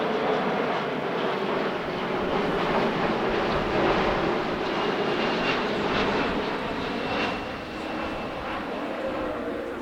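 A Boeing 777X airliner flies past at an airshow, its jet engines making a loud, steady, broadband roar that rumbles and hisses for several seconds with no clear break.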